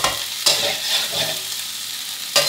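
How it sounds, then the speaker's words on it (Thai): Rice with canned fish is stir-fried in a wok, a steady sizzle under continuous back-and-forth stirring, with sharp scraping clanks of the spatula against the pan near the start and end. "โอเคดูนะครับผมเวลาผัดจะใช้วิธีการคนกลับไปกลับมาเลยครับพลิกกลับไปเรื่อยๆครับ"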